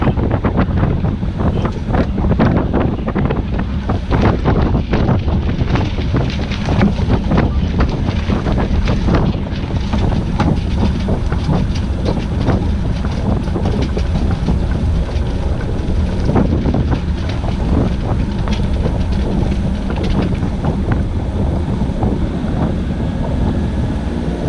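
Strong wind of 16 to 17 knots buffets a sailboat off Angel's Gate on the way to Catalina, a loud, constant roar with hull and water noise, the gusts hitting the microphone hard throughout.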